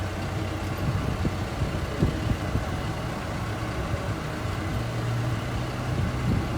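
A tractor engine idles and runs at a steady low rumble while a net-wrapped hay bale is unrolled for cattle on a farm in fall or winter, moderately distant with faint knocks and no speech.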